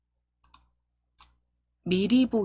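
Two sharp computer mouse clicks, spaced apart and fairly close, in a quiet setting while working in slide master view of a PowerPoint presentation; a voice starts speaking right after them.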